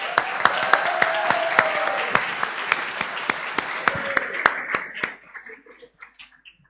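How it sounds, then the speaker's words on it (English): An audience at a political party debate applauds steadily, dense clapping with sharp individual claps standing out, while a voice talks over it; the applause thins and fades out near the end. "Please give her a round of applause."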